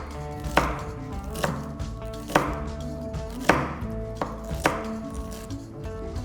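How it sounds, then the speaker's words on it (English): A knife finely chops cabbage and carrot on a board, with sharp regular thuds repeating about once a second, close and clear with no voices. "So it is good if you can chop it as finely as you can."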